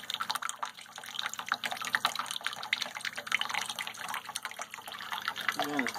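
Tap water from a regular kitchen faucet runs into a Brita pitcher, a faint continuous trickle and splash heard under a voice talking.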